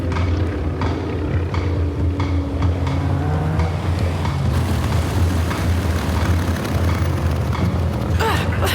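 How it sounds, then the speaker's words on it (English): A Stinson Gullwing airplane flies overhead in a WWII South Pacific setting, a steady loud engine drone with low rumble filling the whole stretch, brief bursts of other activity layered over it. "I know that plane. It's a Gullwing."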